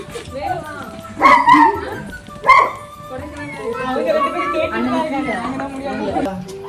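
A puppy yips and barks in short bursts at home while children play and chatter excitedly nearby, with a kitten also present; the barks rise briefly over ongoing voices.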